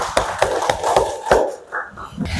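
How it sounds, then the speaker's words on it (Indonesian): A classroom claps for group 3 in a few rhythmic bursts of hand claps, fairly close and moderately loud, fading toward the end with some background noise. "Tepuk tangan untuk kelompok 3."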